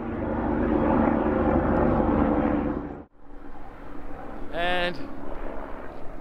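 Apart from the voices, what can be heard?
helicopter flying in the background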